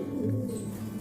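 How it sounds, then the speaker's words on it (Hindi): A red Gandedar pigeon gives a low, soft coo, heard close and brief against faint background noise. "बहुत अच्छी नस्ल के कबूतर हैं, परवास के साथ साथ खूबसूरती लिए हुए"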